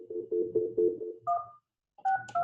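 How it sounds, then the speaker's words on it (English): Telephone keypad tones dialing into a RingCentral meeting call, a rapid run of about five steady beeps followed by a pause and a few higher two-tone beeps, clear and alone. "We can hear you dialing."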